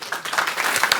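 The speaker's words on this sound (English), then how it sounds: "So we can clap." A live audience at an evening meditation talk claps briefly, a short burst of scattered, fairly faint hand claps with no voices over it.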